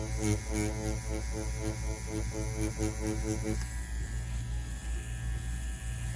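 A Solong EM-139 tattoo machine runs with a steady electric buzz and hum, continuous and close throughout, with a brief rhythmic pulsing early on before it settles into an even drone.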